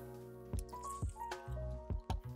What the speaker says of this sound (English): So I'm going to pour in the stabilizer.